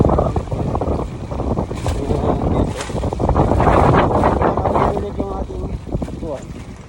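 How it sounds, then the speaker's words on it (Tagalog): Loud, gusty wind buffets the microphone with heavy low rumbling, rising and falling throughout, while a voice speaks faintly beneath it. "napaka hangin. Yun, diba? Sobrang lakas."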